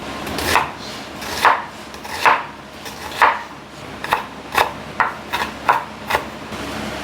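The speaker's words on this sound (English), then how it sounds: "Lastly, we'll be chopping our onion." An onion being chopped with a knife on a board while making beef stir fry: about a dozen crisp, close knocks, spaced unevenly at first and then coming quicker, with no voices.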